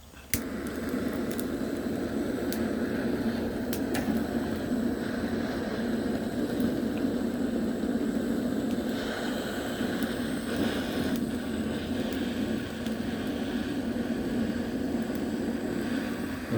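A handheld torch roars steadily after its ignition wheel is turned beside a camping fire pit, a continuous loud, close hiss with a few faint clicks along the way and no talking.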